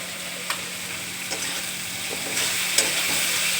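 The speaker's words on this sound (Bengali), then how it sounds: "এবারে কুচিয়ে রাখা পেঁয়াজ, এটা একটু নাড়াচাড়া করে এর মধ্যে লবণ আর হলুদটা আমি দিয়ে দেবো" Chopped onions fry with salt and turmeric for a mutton dish, a steady close sizzle broken by occasional clicks and scrapes of stirring, growing slightly louder toward the end.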